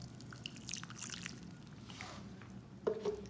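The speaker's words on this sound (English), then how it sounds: "I'll water these guys." Water trickles onto plant cuttings set in a soil rooting mix, giving quiet, close drips and small pours with a brief louder splash near the end.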